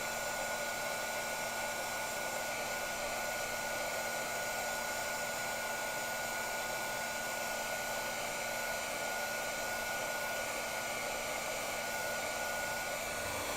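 A hair dryer blows continuously to dry alabaster marbling ink, a loud, steady whooshing roar with a constant motor whine and no pauses.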